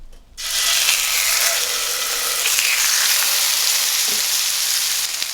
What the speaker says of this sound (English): Meat definitely splatters more. Yeah, it's a lot of Splatter all over the place.